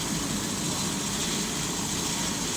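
Helicopter engine running steadily up close in Nepal amid fog and cloud, a continuous loud whine and rumble with no breaks for the whole stretch.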